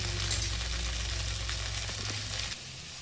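Tomatoes sauté in a pan for peanut chutney, giving a steady close sizzle with faint crackles that drops noticeably softer near the end.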